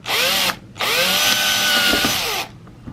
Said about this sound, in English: As the platform is solid, I'm going to have to use a drill for this one